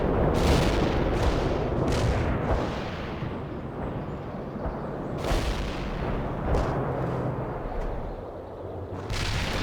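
Heavy Mi-24 helicopter attack-run gunfire from the video game World in Conflict booms and rumbles loudly, with repeated heavy blasts and sustained low roar throughout.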